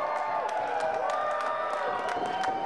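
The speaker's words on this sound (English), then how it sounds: "The crowd showing their appreciation for TJ Wilson." A wrestling arena crowd cheering and clapping right after a match ends, a dense, loud roar of voices with scattered claps throughout.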